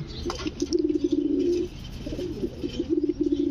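Pigeons kept for sale coo close by in two rolling bursts, the second following a brief pause, with light rustling around them and no speech.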